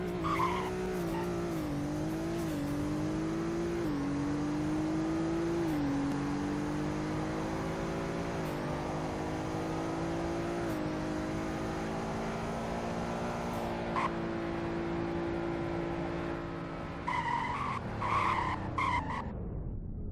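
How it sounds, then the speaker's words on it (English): In a Roblox driving game, a 2021 Honda Civic Sedan engine revs steadily upward through gear changes during a 0-to-100 run, then drops as it brakes hard near the end with a short squeal. "0 to 100 and braking test."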